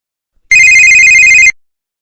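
A telephone rings once in a single continuous electronic burst of about a second, loud and close, with no talk over it.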